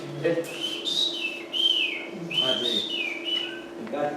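Clear song of a rufous-collared sparrow, repeated sweet whistled phrases rising and falling, several in sequence over a steady low background hum.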